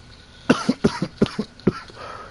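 A man coughs repeatedly, a tight burst of about six or seven harsh coughs in quick succession, close and fairly loud.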